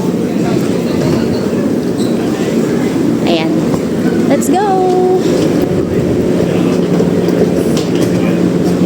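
A train carriage rolls along the rails with a loud, steady rumble and a continuous low roar, joined by occasional squeals, while passengers talk aboard.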